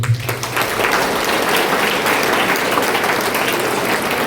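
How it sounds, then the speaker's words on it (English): Loud audience clapping at a school building inauguration ceremony, dense and continuous for several seconds, briefly overlapping a voice at the very start. "Let us give a big clap for him."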